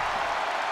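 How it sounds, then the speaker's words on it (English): Wrestling arena crowd in the video game WWE 2K22, a dense continuous roar of cheering and clapping, loud and unbroken for under a second. "The sound of this crowd is deafening, and he's asking for more."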